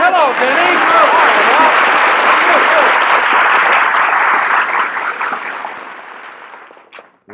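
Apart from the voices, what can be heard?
studio audience applause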